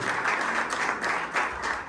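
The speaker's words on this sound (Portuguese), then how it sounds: "Aplauda o Senhor pela palavra dele." Church congregation applauding during a worship service, a steady dense wash of many hands clapping at full strength throughout, with no talk over it.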